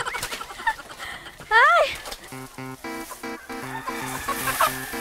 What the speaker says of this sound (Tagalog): Ito na yung mga nahuli ko na native chickens.